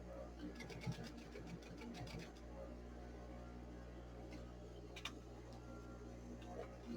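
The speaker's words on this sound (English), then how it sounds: "I'm just going to sew a 1/2 inch seam allowance all the way around" A sewing machine stitches a seam around a layered potholder, a faint rapid ticking needle run in short bursts, close by and quiet, with a voice talking softly over it.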